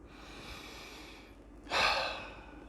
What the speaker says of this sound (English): take a nice deep breath